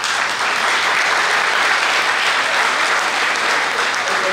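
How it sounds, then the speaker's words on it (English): Loud, sustained applause from a large crowd at a veterans' dinner honoring the Vietnam generation, a dense continuous roar of clapping with no speech. "Give them a round of applause."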